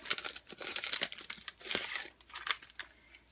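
Maggie Holmes Confetti Collection puffy stickers being handled up close, giving a quick run of crinkly plastic crackles and peeling rustles in short bursts with small pauses, no talking.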